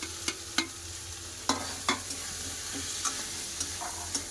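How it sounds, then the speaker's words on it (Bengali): Fried potatoes and shrimp are stirred into a pan of cooked-down spices with a steady close sizzle, broken by a few sharp clicks of the spoon against the pan, with no voices. "এবার ভেজে আলু ওর চিংড়ি মাছ দিয়ে দেবো"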